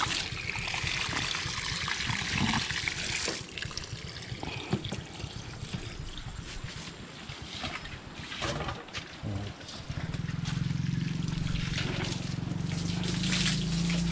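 Water trickles and splashes steadily as it is poured for a pig, with a low steady rumble joining partway through.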